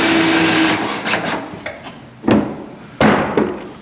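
A screw is driven into wood with 1.5 inch screws, a whirring drill run at the start followed by two sharp bumps of the driver seating, close and fairly loud with no talk.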